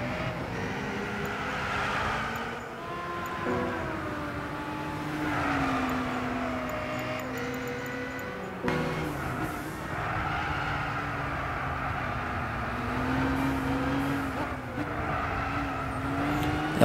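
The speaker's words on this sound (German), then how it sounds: "Lamborghini Gallardo" Lamborghini Gallardo engine in the racing video game Gran Turismo 6, a sustained rising and falling engine whine through gear changes, moderately loud and continuous with no voices.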